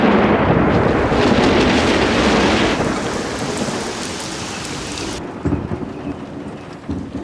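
Heavy rain pours down loudly with rumbling thunder, then the downpour eases into a softer steady patter.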